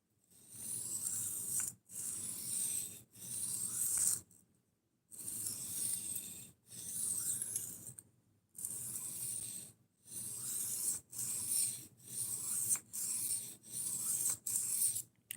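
A knife blade is ground across a 1000 grit whetstone in repeated rasping strokes, each about a second long with brief gaps between them, close up and steady, the rhythm quickening toward the end.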